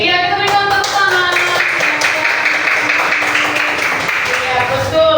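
A group in a classroom claps hands steadily for about five seconds, a dense, even patter of many palms at close range with no pauses.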